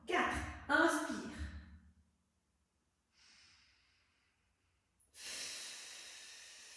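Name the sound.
person inhaling during core exercise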